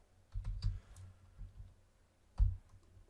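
Computer keyboard tapped while entering Java code, a few soft clicks in short bursts with a brief gap, close and quiet with no talking.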